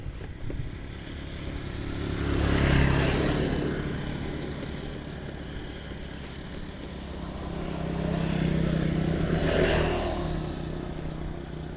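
A GL Pro motorcycle engine, long unused, rumbles steadily nearby, its revs swelling twice and easing back in between, with no talking.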